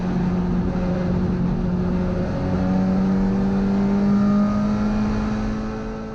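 A classic Mini laps the Brands Hatch circuit on a track day, its engine droning steadily up close with tones that climb and hold through the run before fading slightly at the end.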